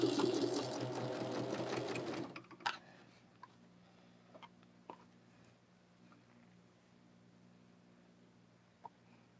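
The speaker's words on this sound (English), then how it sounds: "When I get it underneath my machine, I can see that little fold, and I'm stitching right on the fold." A sewing machine stitching a quilt block for a double sawtooth star, running in a rapid close mechanical burst for about two seconds, then stopping, followed by faint handling clicks and taps.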